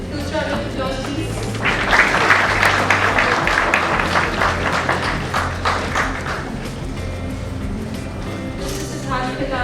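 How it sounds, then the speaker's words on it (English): Audience applause for the panelists at a corporate summit swells into a dense burst of clapping, then thins to scattered claps over a low murmur of voices and room noise. "Two round of applause, please."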